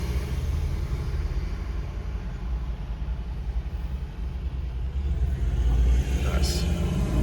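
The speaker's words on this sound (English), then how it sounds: "It's a nice Kenworth right there." A Kenworth truck runs along a road in Western Sydney, a low continuous engine rumble and tyre noise swelling slightly as it nears, with faint talk beneath.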